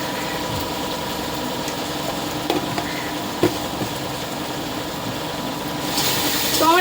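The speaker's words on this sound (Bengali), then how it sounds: "তো আমার পেঁয়াজ ভাজা হয়ে গেছে" Chopped onions sizzle and are stirred in a pan while cooking a Bengali chana dal bora curry, a steady close frying hiss with occasional spoon clinks, swelling louder near the end.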